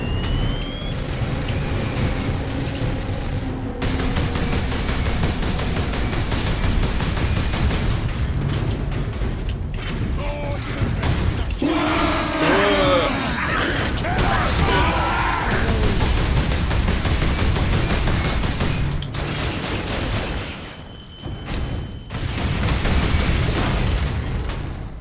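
Repeated grenade explosions in the Space Marine video game, a long run of loud booms and bursts with crackling debris, nearly continuous with a brief lull before one more blast near the end.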